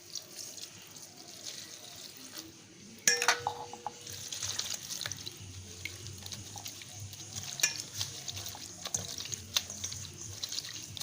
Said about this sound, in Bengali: এখন ধুয়ে নেব।